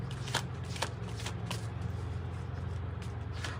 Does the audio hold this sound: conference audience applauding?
no